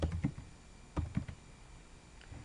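Keys on a computer keyboard are typed into an Excel 2007 spreadsheet in short bursts of close, crisp clicks separated by brief pauses, with no talk.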